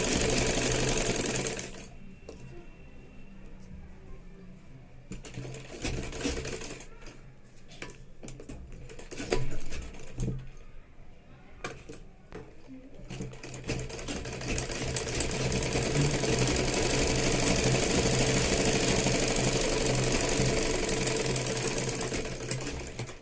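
Sewing machine stitching blouse fabric to its lining, with bursts of rapid mechanical whirring broken by short pauses, then a long steady run of close, loud stitching toward the end.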